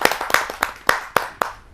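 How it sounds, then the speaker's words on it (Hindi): An audience at a Hindi poetry gathering claps to welcome a poet, with six sharp, evenly spaced bursts of handclaps close by, each fading quickly before the next. "आइए आप सबकी जोरदार तालियों से उनका स्वागत करते हैं।"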